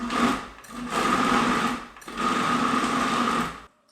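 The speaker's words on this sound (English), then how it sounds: "I've got all of my turkey trimmings inside the food processor, and I'm just going to pulse this" Food processor pulsing turkey trimmings in three loud, whirring bursts separated by brief pauses, close and dry, with no voices.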